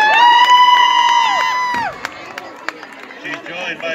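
A crowd at a senior cheerleader recognition cheers and whoops in a loud, high-pitched burst that breaks off after about two seconds, followed by scattered claps and shouts.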